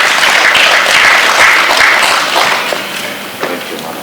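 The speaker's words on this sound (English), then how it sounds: "A round of applause for him." Loud, dense applause from an audience at a student venture capital grant launch event, a crowd clapping continuously and close by before gradually thinning out toward the end.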